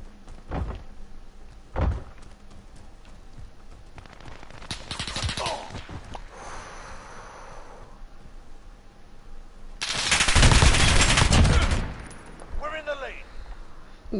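Automatic gunfire rattles out in Call of Duty Modern Warfare, with short bursts early on and a louder sustained burst later, over a quieter game background.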